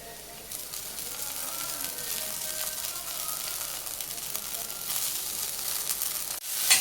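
Dried wheat kurdai fritters hit hot spiced oil with roasted onion, setting off a steady, close frying sizzle that holds throughout and swells briefly just before the end.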